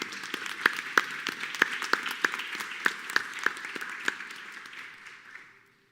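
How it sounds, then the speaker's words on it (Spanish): An audience claps at the close of a panel session, a moderate spread of distinct hand claps in a room that thins out and fades to silence near the end. "Yo pediría un aplauso para todos ellos y con eso acabamos"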